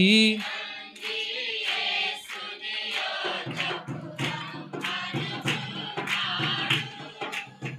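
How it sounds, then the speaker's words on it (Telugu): A church congregation at a Sunday service sings while clapping hands in a steady rhythm, sharp regular claps running beneath the loud group singing throughout. "చప్పట్లు కొడుతూ పాడండి అందరు"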